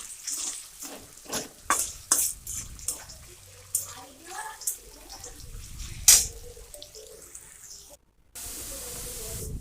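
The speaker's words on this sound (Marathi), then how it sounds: "पाच मिनिटं बटाटे तळू द्यायचेत।" Potatoes fry in hot oil for sabudana khichdi, a steady close sizzle broken by clinks and stirring scrapes of a spoon in the pan, with a brief hiss burst near the end.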